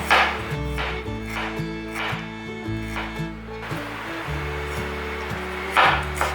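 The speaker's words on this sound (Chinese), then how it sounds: "准备10克的姜，先切片" A knife slicing fresh ginger on a wooden cutting board, with a series of soft, close chopping taps at a steady rhythm over a constant background hum.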